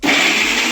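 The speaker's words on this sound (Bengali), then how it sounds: "আদা, টমেটো, কাঁচা লঙ্কা, কাজু, কিশমিশ একসঙ্গে আমি বেটে নিচ্ছি।" A kitchen grinder blending ginger, tomato, green chili, cashews and raisins into a paste gives a loud, close, steady whirring buzz for a brief moment.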